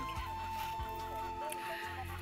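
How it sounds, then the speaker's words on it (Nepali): Chicken clucking near a gate at Puje Danda, short clucks over a steady outdoor hum and background drone, with no speech during the brief stretch. "यहाँनिर कुखुरा नि कराइरहेको छ"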